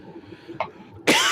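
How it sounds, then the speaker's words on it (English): A man gives one sharp, loud cough near the end, after a faint short throat sound, with quiet room tone before it. "He's coughing."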